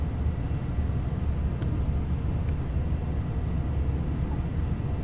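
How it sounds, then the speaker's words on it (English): Light twin-engine turboprop aircraft on the ground before takeoff, generators and fuel pumps running as a steady, loud low rumble and hum filling the cabin, with a couple of faint clicks and no talking. "We got generators on, fuel pumps coming on."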